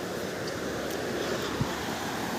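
A river runs beneath a small bridge beside a stone-laid path after heavy rain, its flowing water a steady, broad rushing wash mixed with wind noise, with no talk.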